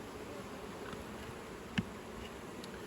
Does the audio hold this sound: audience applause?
no